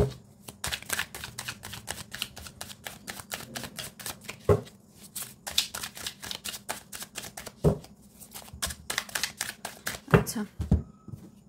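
Tarot cards are shuffled in rapid bursts of crisp riffling clicks, then drawn, close and fairly loud, with pauses and a few heavier taps between runs.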